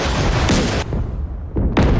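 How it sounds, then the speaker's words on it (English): Nearby explosions boom heavily during naval combat in DCS World aboard the battlecruiser Pyotr Velikiy, two loud broadband blasts with a quieter rumbling gap between them. "it just means there's an explosion nearby"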